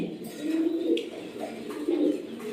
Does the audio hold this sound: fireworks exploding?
no